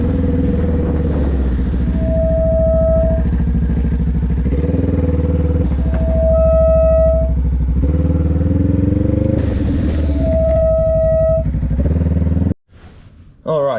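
A motorcycle with squeaky brakes rides on the road, its engine rumbling loudly and continuously with rising and falling revs and recurring high brake squeals, before a sudden cut near the end.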